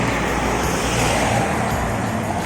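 A Yamaha Mio Gear scooter engine, low on fuel, runs nearby as a steady, dense mechanical drone that holds evenly throughout without pause.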